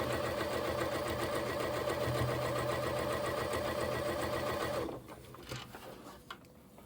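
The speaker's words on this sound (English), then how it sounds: "With this new machine, it's a Memory Craft 6700P." A Memory Craft 6700P sewing machine stitches a quilt border in a rapid steady whir for about five seconds, then stops, leaving a few soft handling clicks.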